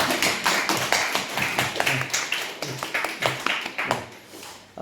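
Clapping from a church congregation welcoming a deaconess back after her surgery, with sharp, uneven claps rising and falling over a few seconds and a murmur of voices underneath.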